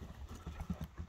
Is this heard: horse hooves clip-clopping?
yes